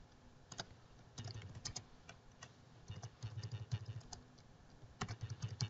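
Fingers type on a computer keyboard in short irregular bursts of close, light keystrokes with brief pauses between, and no one talks.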